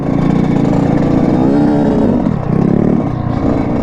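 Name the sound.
Grom and Supermoto motorcycles riding a slippery dirt trail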